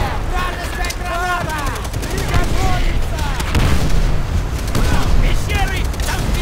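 Repeated pistol gunshots in a video game's chaotic firefight, sharp bursts in irregular succession that sit loud and close, mixed with dense game noise and chattering voices throughout.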